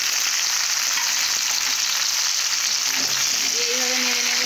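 Cut potatoes sizzle steadily in a meat curry in a pan, with a continuous close frying hiss and a few soft stirring scrapes toward the end.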